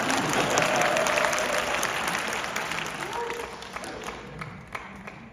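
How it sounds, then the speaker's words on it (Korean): Listeners at a Korean business speech break into applause for the speaker, a steady crowd clapping that gradually thins out over several seconds, with faint voices beneath it. "박수 나올 때까지 기다렸어요"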